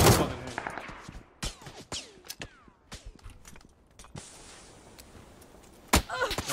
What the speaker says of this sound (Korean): 뒤에서 너무 쏘는데?